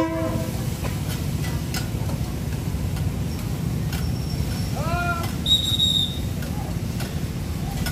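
A train rolls through Maeklong Railway Market in Thailand with a continuous low rumble and clatter, sounding its horn in a few short blasts midway, with faint market voices around it.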